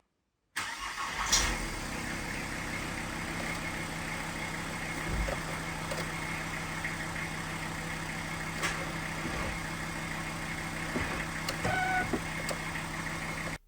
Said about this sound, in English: Turn the van on.